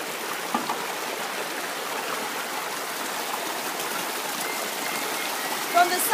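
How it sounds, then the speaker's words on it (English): Fast-flowing stream water swollen by rain, a steady broadband rush running throughout, fairly close, with a couple of brief louder splashes near the end. "From the sound of the water, we can see that the velocity of the water is really much."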